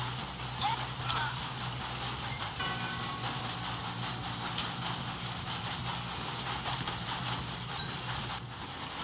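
A train rolls past in the video game Red Dead Redemption 2, a steady low rumble with rhythmic clattering of wheels and cars that stays constant throughout, with voices talking over it.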